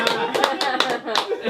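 Short burst of clapping from a small comedy show audience, a few irregular hand claps mixed with voices.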